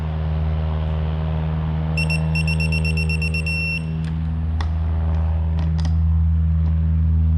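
A rapid series of high electronic beeps from a compression tester chirps for about two seconds over a steady low engine hum, followed by a few scattered clicks.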